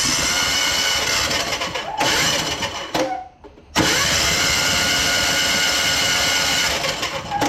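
A portable diesel air compressor engine cranks steadily and loudly with a rough mechanical clatter, cutting out briefly for a moment before resuming at the same harsh, continuous pace.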